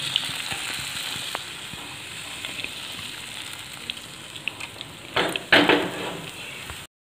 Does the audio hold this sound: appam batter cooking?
yes